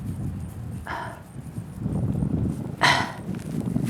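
Goats walking along on a farm during a horse ground-driving lesson, hooves clopping in a few soft, scattered steps at moderate distance over quiet outdoor background noise.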